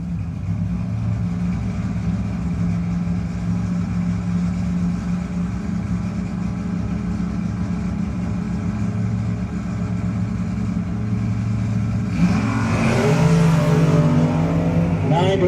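Drag race cars, among them a Pontiac Sunfire, rumble at a racetrack shootout, a steady engine drone building to a louder revving surge near the end, with an announcer talking over it.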